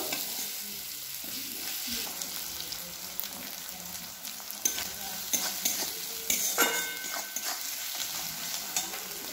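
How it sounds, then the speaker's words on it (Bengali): Chopped garlic frying lightly in a pan, a steady close hiss of sizzling oil with scattered sharper crackles and stirring clatter growing busier toward the middle, no speech. "রসুন কুচি এগুলো দিয়ে একটু হালকা করে ভেজে নেব।"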